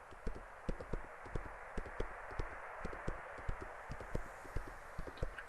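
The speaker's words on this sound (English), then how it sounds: "Yo, man, I can gallop on this donkey." Donkey hooves gallop in the video game I Am Jesus Christ, producing a steady, fairly quick clip-clop of hoofbeats over a soft continuous background wash, with no one talking.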